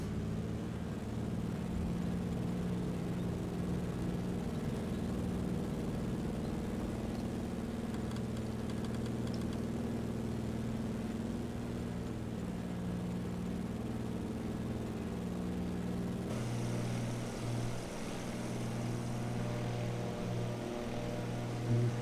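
A DHC-2 Beaver floatplane's radial engine and propeller in Microsoft Flight Simulator 2020 drone loud and steady as the throttle comes up, a continuous rumbling roar with strong low harmonics and a brighter shift late on.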